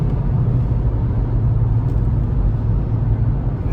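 A car launching hard at 65% throttle gives a loud, steady low engine rumble and road drone that holds close and even throughout, with no voices.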